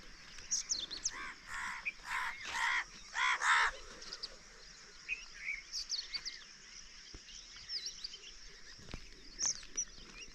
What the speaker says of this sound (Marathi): पक्षी बघा पहाटच उठून